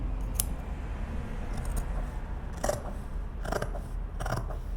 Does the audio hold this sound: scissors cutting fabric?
yes